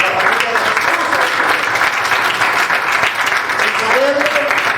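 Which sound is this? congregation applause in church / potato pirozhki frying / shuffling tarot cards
congregation applause in church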